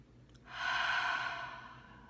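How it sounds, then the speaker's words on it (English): A single slow, deep breath, drawn quietly and then released in a long, airy exhale that swells and fades, heard close and alone. "So a couple of nice deep breaths just to settle in."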